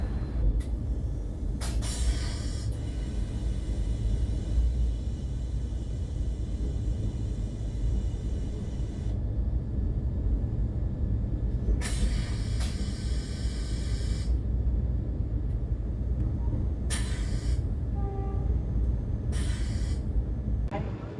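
Steady loud rumble and hiss from inside the Vande Bharat Express (20901 Mumbai Central to Gandhinagar Capital) as it runs, with a few bursts of brighter noise, no talk.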